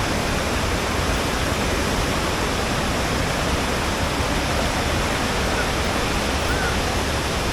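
Savatkada waterfall at Chunakolvan in the Konkan roars in a steady, loud, broadband rush of falling water that holds unbroken and near throughout.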